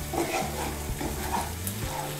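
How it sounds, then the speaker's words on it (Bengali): Boiled banana flower being stirred into a spice mix frying in a pan, giving a close, steady scraping and sizzle with no talk over it. "এখন এর মধ্যে দিয়ে দেব সেদ্ধ করা মোচা।"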